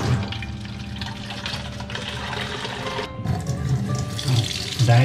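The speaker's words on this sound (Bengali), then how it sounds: "আমি আরও জল নিচ্ছি" Tap water from a pump-fed reservoir runs steadily into a container for a water purifier check, a continuous near splashing stream with slight rises in level and no talking.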